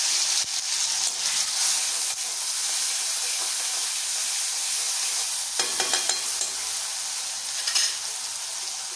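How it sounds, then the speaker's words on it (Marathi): Onion and tomato fry in hot oil in a kadhai for a boiled egg fry masala, giving a steady, close sizzle with a few soft stirring clatters near the end. "छान असं फ्राय करून घ्यायचं आहे"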